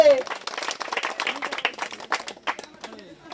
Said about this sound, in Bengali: একদম জোরে হাততালি